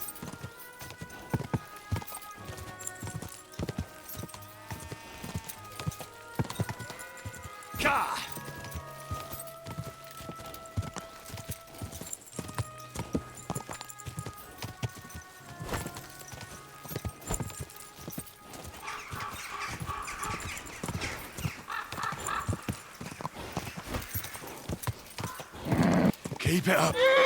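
Horse hooves clip-clop steadily in Kingdom Come: Deliverance 2, with an occasional neigh, under background music and someone talking over the ride.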